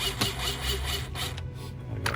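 A drill bores a small pilot hole in a fender before a screw goes in, giving a steady whirring grind with a brief lull partway and slight variation as the bit cuts through.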